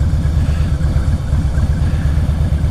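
A loud Harley motorcycle engine rumbles steadily and close by, its deep throbbing pulse continuous throughout with no talk over it.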